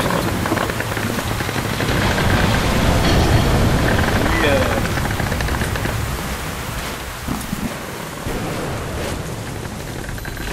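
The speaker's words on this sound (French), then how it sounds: "La tempête recommence." Stormy wind in the video game Metro Last Light, a steady broadband roar with gusty, rain-like texture that swells and then eases slightly; it continues without a break and voices can be heard speaking over it.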